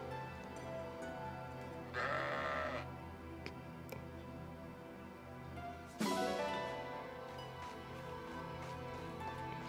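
Sheep bleat in the video game Fire Emblem Engage, two distinct bleats a few seconds apart over steady game background music, fairly clear and close.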